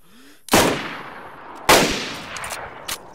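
Three sharp, loud gunshots in DayZ, each with a long decaying echo, spaced about a second apart in a quiet outdoor setting.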